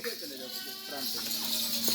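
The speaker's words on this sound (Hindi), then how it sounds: "इत्थे रोको बकरियां।" Goats bleat several times on a goat farm, a couple of drawn-out wavering calls close by, under and between a voice and outdoor background noise.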